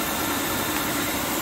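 A 2HP three-phase motor spins at 3000 RPM while driven from a generator, giving a steady, even whir and hum that sits close and constant throughout the short stretch.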